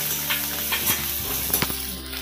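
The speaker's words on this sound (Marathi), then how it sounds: "लाल मिरची आणि हा जो लसूण आहे तो एकत्र टाकते" Red chili and garlic fry together in a hot pan for dragon paneer, a steady loud sizzle with occasional stirring scrapes and clinks close by.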